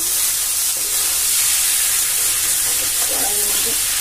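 Mixed vegetables sizzle and hiss steadily in a home kitchen pan while being stirred, a constant close frying noise with faint scraping toward the end.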